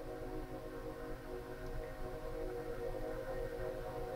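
Train horn sounding at a distance, a sustained tonal blare held steadily throughout over low rumbling background noise.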